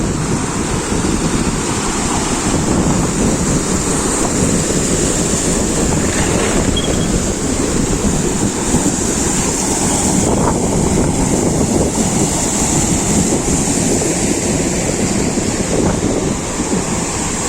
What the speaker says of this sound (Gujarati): આ તમે જોવો મિત્રો અહીંનું પાણી કેવું પસાર થઈ રહ્યું